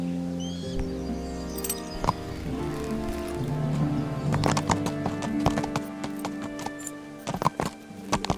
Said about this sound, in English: el caballo más rápido voy a sacar.